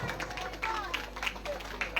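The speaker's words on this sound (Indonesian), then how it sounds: "Tepuk tangan dulu untuk Bang Dika" Scattered clapping from a talk show audience greeting a guest at a camping ground event, a sparse run of claps with voices and other noise mixed in.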